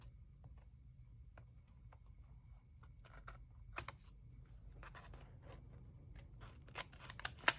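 Scissors trim paper for a junk journal, a quiet series of snips and faint scratches over low background hum, growing a little busier toward the end.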